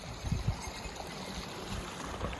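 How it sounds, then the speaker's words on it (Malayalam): Snowmelt water runs in a stream at Gulmarg, Kashmir, with a faint, steady rushing and trickling and a few soft splashes near the start. "ഇത് മഞ്ഞുരുകി വെള്ളാട്ട വരുന്നേ മഞ്ഞുരുകിയ വെള്ളം"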